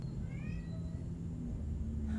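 A house cat meows once, a short rising call near the start, over a steady low indoor hum with no talking.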